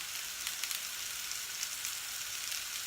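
Food fries in a frying pan, left to crisp between stirs, producing a steady, even hiss of sizzling oil, close and moderately loud with no voices.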